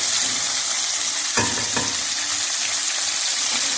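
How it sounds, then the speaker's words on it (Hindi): Chicken wings deep-fry in hot oil with a loud, dense, continuous crackling sizzle and a couple of brief bumps in the middle. "हमारे विंग्स हमारे फ्राई हो रहे हैं"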